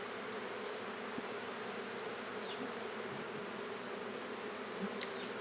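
Dense, continuous buzzing of a packed honey bee swarm colony at a backyard hive, a steady close drone with occasional individual bees flying past.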